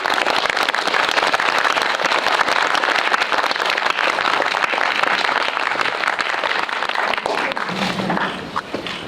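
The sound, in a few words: audience applause welcoming the directors and actor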